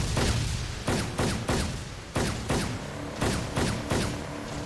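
Repeated bursts of gunfire in the combat game ARMA 2, loud and sharp, arriving in an uneven rhythm of volleys with brief decays between them.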